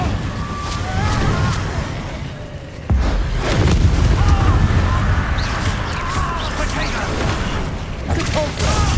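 Incendio fire spells in Hogwarts Legacy go off as booming, crackling bursts amid other combat noise, loud and dense, with a sharp impact near the middle and a voice speaking over it.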